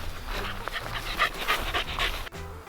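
A dog pants rapidly nearby with short whimpering breaths, close and fairly loud, with some faint background voices.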